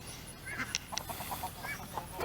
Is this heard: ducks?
yes